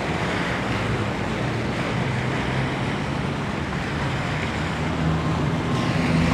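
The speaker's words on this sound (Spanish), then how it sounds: "en puntos como estos en la ciudad de Salta está el agua fluyendo con gran cantidad" Water gushes steadily from leaking expansion joints in city pavement in Salta, a continuous broad rushing wash heard up close, with faint traffic rumble underneath.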